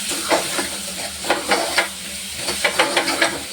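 Vegetables in sambar stirred in a pan, a spoon scraping in a series of soft rhythmic strokes over a steady bubbling sizzle, close and alone.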